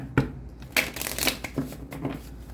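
Crisp riffling bursts of tarot cards being shuffled, a few quick flurries spaced apart, close and fairly clear with no talking.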